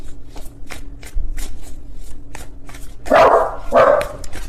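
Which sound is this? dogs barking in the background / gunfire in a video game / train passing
dogs barking in the background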